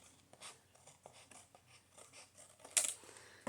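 Scissors snipping through paper for a fall nature journal, a string of small crisp cuts close by, ending in one sharper louder snip, quiet and with no talk.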